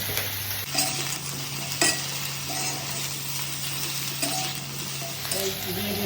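Vegetables being mixed in a pan after salt goes in, with a steady frying sizzle broken by scraping stirs and light utensil clinks, close by.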